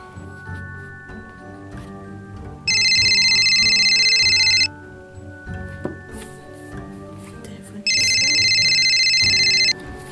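Telephone ringtone heard over a quiet room while a call is being placed, two loud electronic ringing bursts of about two seconds each, separated by a pause, with no talking.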